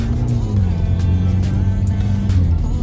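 A luxury car cruising on the road, its steady low engine and road hum running continuously and fairly loud with faint talk mixed in.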